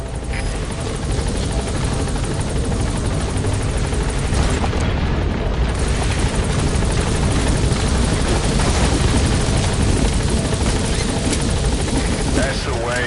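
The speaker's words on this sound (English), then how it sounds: "All right, the chopper's touching down." A video-game helicopter touches down and lifts off again, its rotor roar loud, dense and continuous throughout, with voices faintly beneath it.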